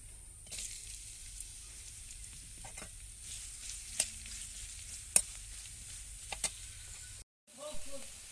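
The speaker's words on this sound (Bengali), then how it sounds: "এবার পেঁয়াজটা বেজে নেবো" Onion fries in a pan in a village kitchen, giving a faint, steady sizzle with a few sharp stirring clicks scattered through it and a brief silent gap near the end.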